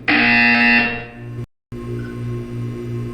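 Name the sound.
buzzer in the video game Portal 2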